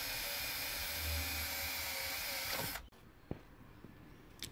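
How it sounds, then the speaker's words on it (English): A power drill bores a hole through the bottom of a plastic box or housing during a 12V air compressor remote switch install, running steadily and loud for almost three seconds before stopping abruptly, followed by a few faint handling knocks. "just drill a hole in the bottom there."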